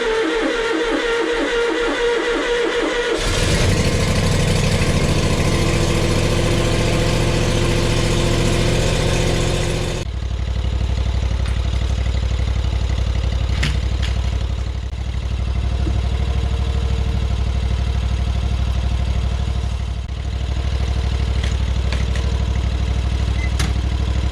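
A Cyclone Rake leaf vacuum's engine pulls to life with its choke on, then runs loud and steady for the rest of the stretch, with a slight change in tone partway through.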